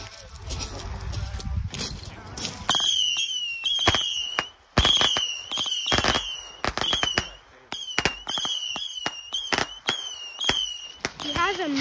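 Fourth of July firework missiles whoosh up and burst one after another, loud sharp cracks and whistling launches scattered through the stretch with people talking over them.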